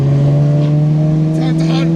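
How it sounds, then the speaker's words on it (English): A race car engine holds a steady, loud droning note close by throughout, without clear revving swells. "Yeah, it's a race car. It's the race car."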